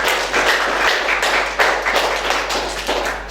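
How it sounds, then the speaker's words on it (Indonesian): A small group claps together in steady, dense applause for a group presentation in a classroom, lasting the whole moment, close and fairly loud. "beri tepuk tangan untuk Dewa dan kelompok."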